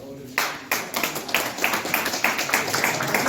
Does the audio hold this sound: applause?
yes